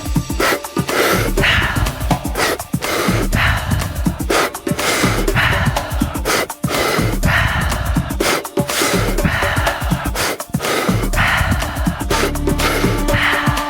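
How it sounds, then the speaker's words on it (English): Deep breathing, with steady rhythmic inhales and exhales repeating close and fairly loud for the whole stretch, set against a soft background. "Keep on breathing."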